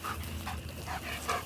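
A dog pants up close after playing fetch on a homestead, quick soft breaths in a steady rhythm, fairly quiet and alone.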